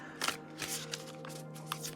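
Oracle cards being shuffled in quick, papery riffles, several short bursts in a row, close and fairly quiet, no voices.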